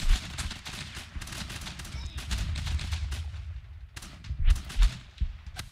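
Dense, rapid gunfire crackles in the Guns Up video game as troops shoot at a decoy, with overlapping bursts and sharp shots running throughout at steady, moderate loudness.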